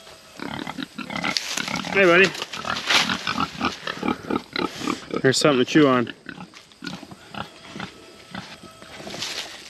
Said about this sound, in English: Look at the pigs.